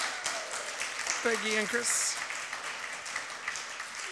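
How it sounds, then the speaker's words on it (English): An audience at The Art of Giving 2021 event applauds young artists. Broad, continuous clapping fills the room while a voice briefly speaks over it. "Couldn't you give another big round of applause for our aspiring and young artists?"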